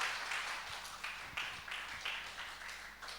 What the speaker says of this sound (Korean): 크게 박수로 우리 환영하고 축복하겠습니다